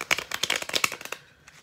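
A deck of playing cards is shuffled up close, a rapid run of crisp riffling bursts over about a second that then thins to a few soft taps.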